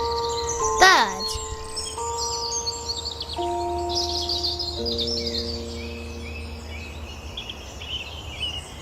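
A bird gives a quick chirping call near the start, then lighter twittering continues faintly beneath sustained musical tones in an outdoor nature scene.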